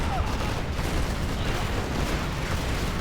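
Comanche helicopter rocket pods firing in Command & Conquer Generals Zero Hour, a dense, continuous barrage of rumbling rocket blasts and explosions, loud and sustained, with game voices mixed in.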